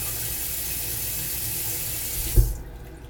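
Tap water runs steadily into a sink while raisins are washed, a constant close rush that ends abruptly with a thump as the flow stops.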